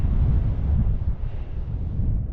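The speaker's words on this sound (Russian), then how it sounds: "Ветер холодненький." Cold wind blowing across the summit of Bolshoy Thach mountain, a loud low buffeting roar battering the microphone in uneven gusts.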